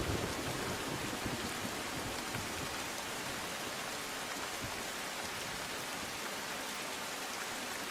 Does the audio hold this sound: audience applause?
no